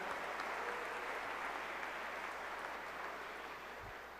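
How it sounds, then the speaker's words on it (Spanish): Steady applause from an audience at a national improvised-speech oratory contest, a dense even wash of clapping held at moderate distance throughout, with no voices on top. "le damos un fuerte aplauso"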